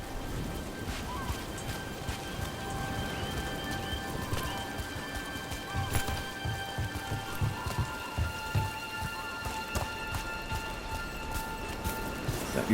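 Steady rain falls in a Dragon Age: The Veilguard game scene, a dense continuous patter on surfaces with scattered heavier drops, moderately loud throughout, while faint voices talk underneath.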